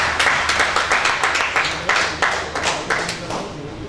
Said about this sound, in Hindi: आप सबकी भरपूर तालियों में सियालकोट का फहर, सियालकोट का मान, जनाब शाहिद ज़की साहब।